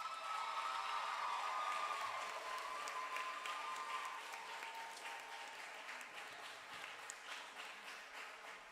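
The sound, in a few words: applause at a graduation ceremony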